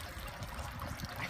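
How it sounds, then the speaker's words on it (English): A front-yard water fountain in need of cleaning trickles softly and steadily, faint and unbroken, with no talking. "My water fountain looks like it needs cleaned again. I love the sound."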